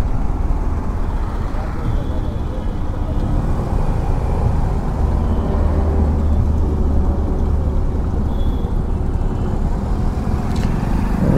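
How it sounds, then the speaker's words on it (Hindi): Steady road traffic rushes past a Suzuki Access 125 scooter on an Indian highway near a toll, a loud continuous rumble of cars, buses and trucks with wind noise and faint voices mixed in. "ये देखो ट्रैफिक मिलना शुरू हो गया है अभी।"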